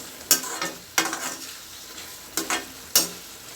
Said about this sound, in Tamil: நம்ம நடுவில் நடுவில் இந்த மாதிரி கிண்டி விட்டுக்குருவோம்